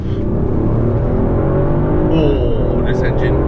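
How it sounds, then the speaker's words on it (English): A Mercedes-Benz CLS450 engine hums steadily from inside the cabin at cruising speed, a low continuous drone with a voice talking over it. "Oh, this engine."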